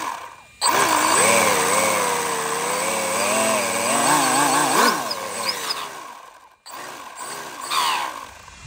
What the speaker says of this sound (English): I think it's all set to go for a full send on this thing at 6S